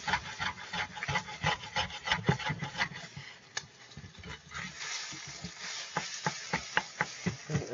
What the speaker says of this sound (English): just gonna mix this in that pan. Scrape it at the bottom.